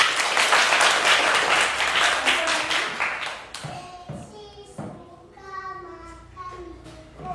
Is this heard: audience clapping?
yes